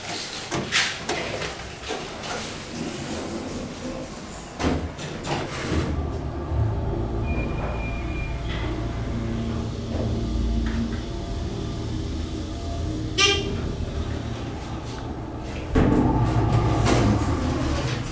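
A steady mechanical hum of a Dover hydraulic elevator motor, low on oil, drones underneath, with clanks, shuffles and a few sharp knocks along the way.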